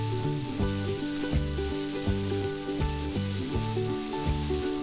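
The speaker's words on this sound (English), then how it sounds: "add 2 onions chopped and fry it until the onion is nice and soft" Chopped onions frying for a Punjabi chickpea curry, a steady crackling sizzle in a pan, with faint musical tones underneath.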